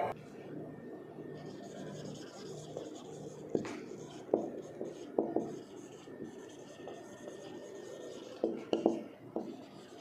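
A marker scratches and taps on a board as ticket totals are written up in a maths class. The strokes are faint and intermittent against a quiet room hum.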